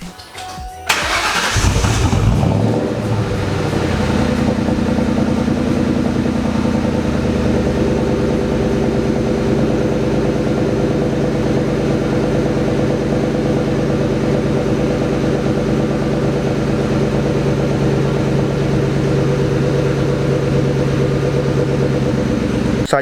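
A Ford Mustang Mach 1 with an SLP Loudmouth catback exhaust starts with a sharp loud roar, then settles into a steady, deep, rumbling idle that runs on throughout.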